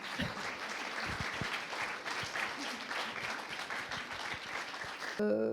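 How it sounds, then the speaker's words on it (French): An audience applauds four speakers after a graphic design conference and round-table in Rennes, with steady, dense clapping throughout and murmured voices mixed in before it cuts off near the end. "On peut les applaudir, je crois."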